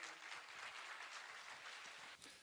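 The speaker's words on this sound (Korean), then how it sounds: "네 분께 다시 한번 큰 박수 부탁드리겠습니다" An audience at a book concert claps together in a steady, dense round of applause that holds evenly before tapering off at the end. The applause is heard alone, without speech.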